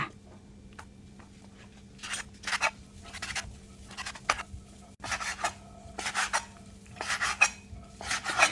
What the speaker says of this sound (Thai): ขั้นตอนนี้ก็ดูวิธีการหั่นไส้ใหญ่หมูกันไปก่อนค่ะ